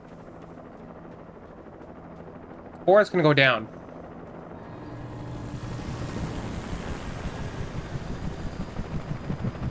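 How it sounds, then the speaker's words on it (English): Helicopter in the video game Alan Wake, a steady rotor rumble swelling in from about four seconds and growing into a broad, pulsing drone; someone speaks briefly near the start before it builds. "Oh, the chopper's gonna see me and I'm gonna have to run,"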